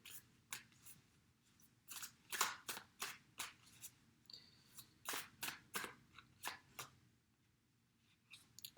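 Tarot cards are shuffled in a quiet room, with crisp snapping and slapping sounds arriving in quick irregular bursts, close and clear.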